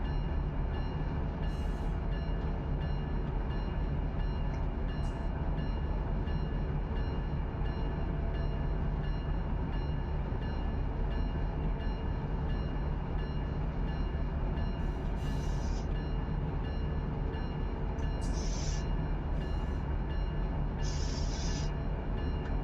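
A freight train in a train simulator game rolls slowly at about 11 mph, giving a steady, loud rumble of wheels and cars with brief high squeals and clanks now and then, with no talking.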